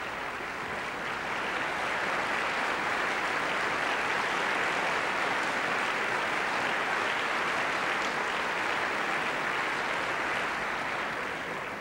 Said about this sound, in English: in response to the warm applause of this appreciative audience.